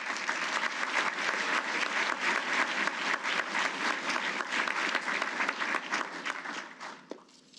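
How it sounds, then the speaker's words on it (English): Sustained audience applause fills a DLA awards ceremony, a dense steady wash of many hands clapping that holds evenly before tapering off near the end. "We're proud to highlight and recognize these deserving individuals with a round of applause."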